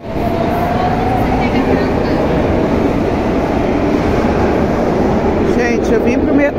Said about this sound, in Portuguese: Gente, eu vim pro metrô, vim pro Brigadeiro